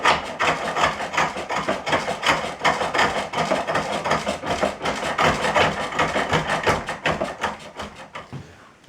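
Wood cut on a German pole lathe: a steady rhythmic rasping and scraping of the tool against the spinning spindle, repeating in close, even strokes that fade near the end.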